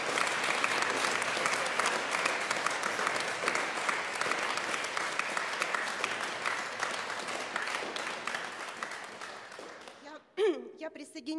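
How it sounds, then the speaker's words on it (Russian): An audience at a memorial concert breaks into sustained applause, many hands clapping loudly and steadily for about ten seconds before it stops abruptly and a voice begins speaking. "Аплодисменты вам."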